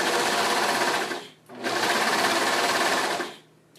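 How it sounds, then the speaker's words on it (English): A serger stitches the bottom seam of a fleece hat in two steady, fast-whirring runs with a short pause between them, close and loud. "So I'm going to sew along, or serge along that bottom line."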